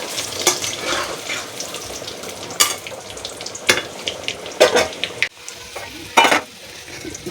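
Potato pieces for a chicken potato curry sizzle in hot oil in a pan, with a steady frying hiss broken by several louder clinks and scrapes of a utensil against the pan.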